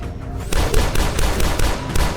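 Rapid pistol and shotgun fire from the first-person shooter Dusk, a dense, loud burst of repeated shots with booming low end and no pauses after a brief quieter lead-in.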